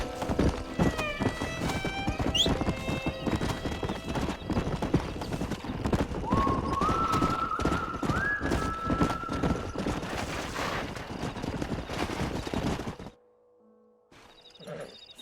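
A stallion in Red Dead Redemption gallops with rapid, continuous hoofbeats close up and lets out a long neigh partway through, with scattered gunfire-like cracks early on, before the hooves stop abruptly and near-silence follows.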